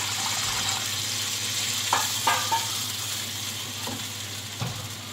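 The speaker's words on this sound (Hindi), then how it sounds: "थोड़ा पानी ऐड करूँगी ताकि मसाला अच्छी तरह भून जाए।" Masala fries in a pan after a little water is added, giving a steady sizzle with a few soft stirring knocks and clinks near the close.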